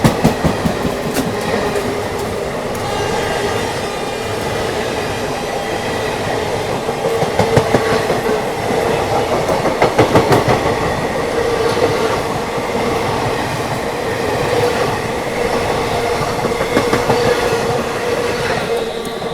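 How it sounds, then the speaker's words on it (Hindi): Patliputra SF Express (12141) running on Indian rails while a Danapur Special overtakes alongside: a loud, continuous rolling rumble with steady wheel clatter and rhythmic clacks, no voices. "दानापुर स्पेशल ओवरटेक मार के गई है भाई"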